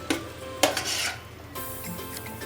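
Bottle gourd halwa with cashew and almond slivers is stirred in a pan, a few sharp spoon scrapes and clinks over a soft, quiet sizzle, close by with no voices.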